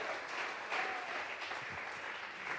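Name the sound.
congregation applause in a church service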